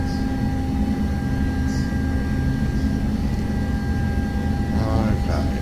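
A simulated DC-9's turbojet engines roar steadily while accelerating on takeoff in Flight Simulator X, a loud, constant engine drone with sustained whining tones and brief faint sounds near the end.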